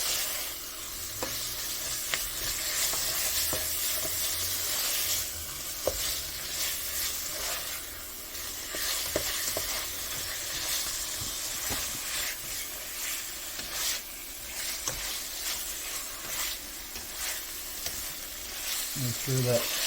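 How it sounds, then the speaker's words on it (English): Carnivore hamburger gravy bubbles and sizzles in a pan while being stirred, a steady close hiss punctuated by scattered scrapes and taps of the utensil, growing busier toward the end. "we're going to go ahead and mix this up real good"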